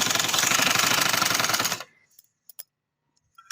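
A sewing machine stitches the sleeve of a women's casual daily-wear dress with a fast, even mechanical rattle for about two seconds, then stops, leaving near silence broken by a few small clicks.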